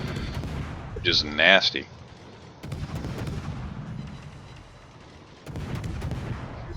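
Naval guns fire high-explosive shells in World of Warships. A sharp burst of gunfire is followed by more booming reports, and someone briefly says a word over the shots.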